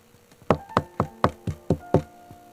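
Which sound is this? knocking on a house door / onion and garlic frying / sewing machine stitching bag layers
knocking on a house door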